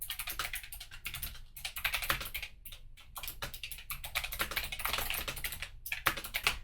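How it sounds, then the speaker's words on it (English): Steady, rapid clicking of keys on a computer keyboard, close and continuous, with brief pauses between bursts of typing and no voices. "Moving on to keyboard sound."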